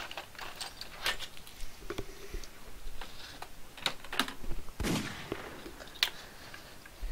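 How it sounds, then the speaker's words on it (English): Weapon fire in the video game Duke Nukem Forever: scattered sharp shots crack out at irregular intervals over a low, steady game background, with no talk. "I'm getting the bloody gun."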